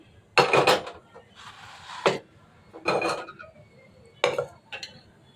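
Metal clanks and scrapes as a pressure cooker is picked up and set down, several close bursts separated by short pauses.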